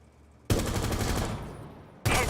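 Shots fired at a partially hidden target's head in a shooting video game ring out as a loud, dense burst of gunfire lasting over a second, then a second abrupt shot after a short pause.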